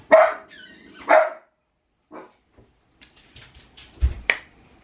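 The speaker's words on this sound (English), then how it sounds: "She's probably going to bark again in a second though, because somebody's walking past my window" A dog indoors barks at someone walking past a window: two loud, sharp barks close to the microphone, then a faint yip and a quieter pause, ending with a couple more scuffling sounds and short barks.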